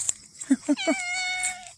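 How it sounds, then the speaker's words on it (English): A talkative cat at home gives a few short chirps followed by a drawn-out, clear meow close by, with a faint voice in the background. "She's the most talkative cat."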